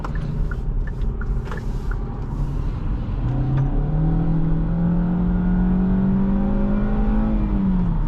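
A 2024 Kia Forte GT-Line with a 147-horsepower engine pulls away in sport mode, its engine note rising steadily as it revs, heard from inside the cabin as a loud, continuous drone with road noise.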